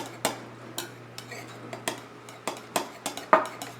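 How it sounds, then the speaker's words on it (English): A utensil clinks and taps against a bowl in an irregular rhythm while ingredients are stirred together with vanilla extract, close and fairly quiet, with a low steady hum underneath. "you're going to mix these two up to combine the vanilla extract"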